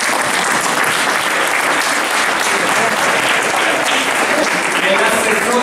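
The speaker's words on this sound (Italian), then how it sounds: "che invito a salutare anch'egli con un altrettanto caloroso applauso" Sustained, dense applause from a large audience greeting the mayor of Catania at a school event with the justice minister, loud and steady throughout with no pauses.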